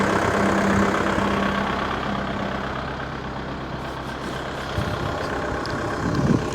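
A Kubota 5502 4x4 tractor engine runs steadily at idle, a continuous low rumble with a faint hum that stays close and even throughout, rising slightly near the end, with no talking.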